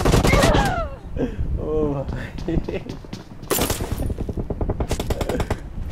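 Rapid automatic gunfire from the mobile battle-royale game PUBG Mobile, bursts of shots crackling in quick runs between and under excited player chatter.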